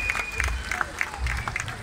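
An audience applauds for a guitarist at a concert in Gafanha do Carmo, steady clapping from a crowd mixed with stage noise and a voice over it.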